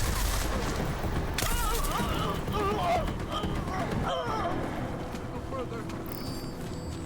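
Rapid gunfire in Deus Ex: Mankind Divided, a dense burst of shots with game sound effects and a speaking voice over it, loud and close throughout.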